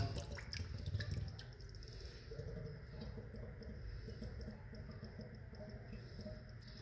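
Water running and trickling down steadily just before shutting off, a continuous faint splashing flow with a few drips, heard alone at a moderate distance.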